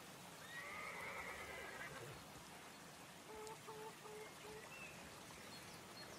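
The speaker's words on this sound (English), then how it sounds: "The horse agrees." A horse whinnies faintly and briefly in the background of an Inferno match from a Counter-Strike tournament, sitting over a steady wash of rushing ambient noise, followed by a short series of chirping tones.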